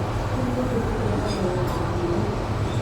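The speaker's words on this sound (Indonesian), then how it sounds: "Dan dari arah sebelah, di sebelah kiri ada kereta api." An extra Jogja–Gambir passenger train runs past on the adjacent track, a steady loud low rumble with rolling wheel noise and a couple of faint metallic squeals, heard continuously from nearby.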